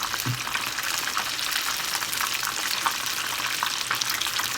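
Battered fish deep frying in hot oil for homemade fish and chips, a dense, steady bubbling sizzle that continues without pause throughout, close and fairly loud, with no voices.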